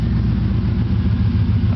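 A car engine idles steadily and close by, a smooth low rumble with an even pulse and no revving, the vehicle showing 87,300 miles and running without warning lights.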